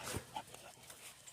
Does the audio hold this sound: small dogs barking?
yes